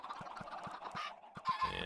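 Chickens in a Minecraft chicken farm cluck in short, evenly spaced bursts, several soft clucks in a row followed by a louder flurry at the end, close and alone.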